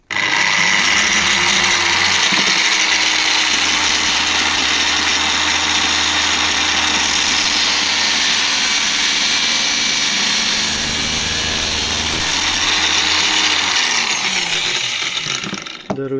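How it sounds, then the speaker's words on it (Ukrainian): A power saw cuts continuously, loud and close, with a steady motor whine over a low hum that shifts slightly as the load changes, then cuts off at the end. "ну і я ставлю собі світло, щоб бачити, де я пиляю. І пиляю."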